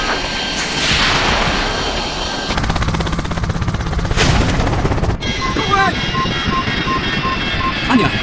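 Missiles and heavy gunfire in the IGI video game Border Crossing mission, a roaring launch whoosh followed by rapid rattling fire and explosive bursts, with in-game radio voices and beeping alarms layered over the noise.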